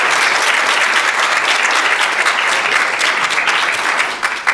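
Audience at a city council meeting in Elmhurst breaks into loud, sustained applause, a dense wash of clapping that holds steady throughout and tapers slightly at the very end.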